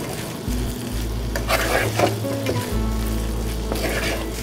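Ivy gourd peera with curry leaves and coconut oil stirred in a pan, a continuous close sizzle with scraping strokes of the spoon, over a low steady hum from a kitchen appliance, no voice.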